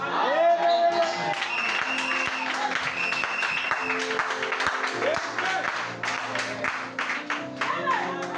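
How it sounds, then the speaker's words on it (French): A church congregation applauds and cheers for several seconds, a dense, loud, continuous wash of clapping and joyful shouts, with sustained musical tones ringing beneath. "On donne les acclamations, les cris de joie pour la gloire de notre Seigneur."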